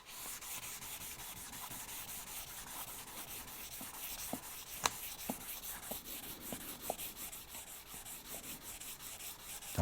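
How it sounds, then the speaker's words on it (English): Fine-grit sandpaper rubs across a wood finish, worked up to 800 grit, in quiet, rhythmic back-and-forth strokes with a few faint sharper scrapes, close but soft. "sanding down to 800"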